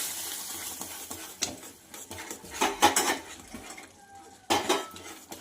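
A spoon scrapes and clinks against a pan while jaggery semolina sheera is stirred, with soft sizzling underneath and uneven bursts of metallic scraping, no voices.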